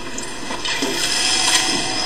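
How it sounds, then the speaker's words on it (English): Water sloshes and splashes in Bioshock, a short continuous watery rush at moderate loudness, swelling slightly in the middle with no talking over it. "Splash."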